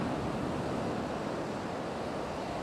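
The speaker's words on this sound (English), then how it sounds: "I love looking out of the ocean." Ocean surf seen from a shoreline yoga spot, a steady close wash of breaking waves mixed with wind, with no pauses and no voices.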